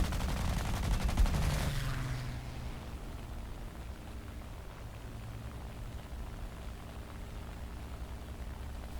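Rapid aircraft machine-gun fire rattles in a dense burst during a flight combat game, aimed at a P-47, then fades into steady engine drone.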